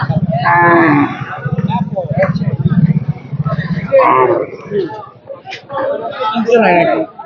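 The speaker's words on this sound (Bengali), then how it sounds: "চমৎকার একটি কোরবানির গরু" A sacrificial cow moos at the busy Gabtoli cattle market, deep drawn-out lows close and loud, alternating with people talking and crowd noise.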